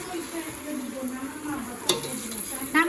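Meat fries in hot oil for Saudi-style biryani, a close, steady sizzle with scraping stirring strokes and a few sharper clinks of the utensil, a voice faintly present in the background.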